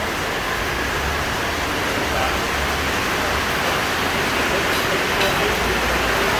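Steady rain falls outside, a dense, even hiss that fills the whole stretch at constant strength, with no pauses and no clear voices over it.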